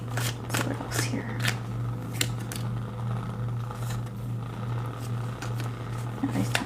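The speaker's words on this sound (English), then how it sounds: "Everybody's telling me to keep shuffling." Tarot cards being shuffled in repeated quick riffling bursts, close and crisp, over a low steady hum, with no talking.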